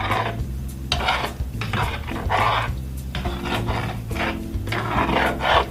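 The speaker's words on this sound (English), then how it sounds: "We're going to stir this up." A spoon scrapes in rhythmic strokes through Trinidad-style stew chicken as ketchup is stirred into the pot, each stir a short rasping burst over steady background music.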